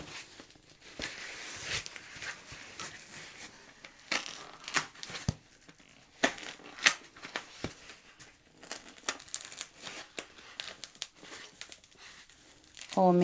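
Scattered crisp snips and paper crinkles of small scissors cutting wreath craft material, irregular and close, with quiet rustling between cuts.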